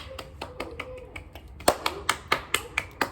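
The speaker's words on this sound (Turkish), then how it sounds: "Alkış." A few people clap by hand at the start of a casual indoor recording, with sparse, uneven claps at first, then a louder, steady run of sharp claps close to the microphone.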